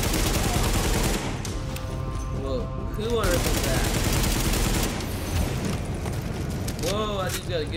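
Gunfire in Tom Clancy's The Division video game, a fusillade of shots and bursts across the clip with game sounds and voices mixed in.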